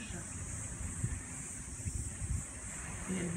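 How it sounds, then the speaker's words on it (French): Wind blows steadily across the small Japanese island of Naoshima, a soft continuous rush near a moving outdoor sculpture, with a faint voice at the end. "Est-ce que vous entendez le vent?"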